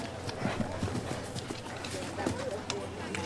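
Hoofbeats of the ex-racehorse Blackfoot Mystery galloping on an Olympic cross-country eventing course at Rio, a quick clip-clop rhythm partly buried under a commentator's voice and crowd noise.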